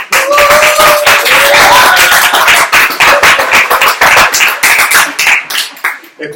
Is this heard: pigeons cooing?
no